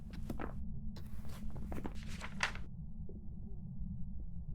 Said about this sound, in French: j'ai l'impression qu'ils ont touché aussi au bruit de pas entre les étages